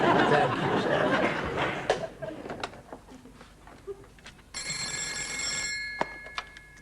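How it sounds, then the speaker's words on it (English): A telephone bell rings in bursts of trilling tones partway through, following chatter and light laughter in a busy room, with a nearby voice heard before the ringing starts. "Telephone call for Captain Wagstaff"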